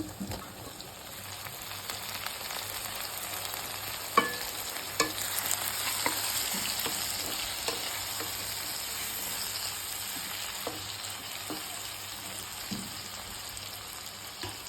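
Tomatoes fry in a pan for a dry fish and brinjal curry, giving a soft, steady sizzle with scattered clicks of stirring, fairly quiet and close.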